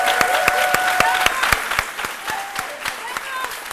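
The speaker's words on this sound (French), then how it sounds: "On peut les applaudir très fort," Studio audience applauding on a Côte d'Ivoire midday TV show, RTI 1, with strong clapping and a presenter's voice running over it throughout.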